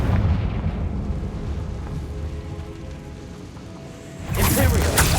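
An explosion from the Confringo spell in Hogwarts Legacy on PS5, a loud, booming blast bursting near the end after a stretch of low rumbling battle noise.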